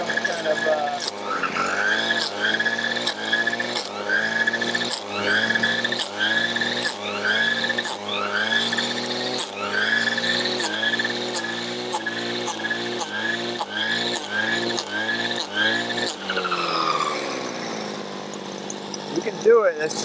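A Vevor 52cc gas hedge trimmer cutting branches close by, its two-stroke engine revving and bogging in repeated bursts as it bites into wood, then settling to a smoother rising whine near the end.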